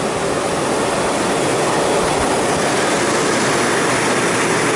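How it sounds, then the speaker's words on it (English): A Riccar Prima vacuum cleaner, a Chinese-made unit marketed as U.S.-made, runs with a loud, steady broadband roar that stays unbroken for the whole stretch, with no voices over it. "we're going to measure what the vacuum is currently producing"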